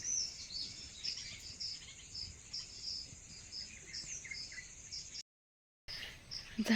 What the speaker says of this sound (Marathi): आणि चिमण्याचा चिवचिवाट.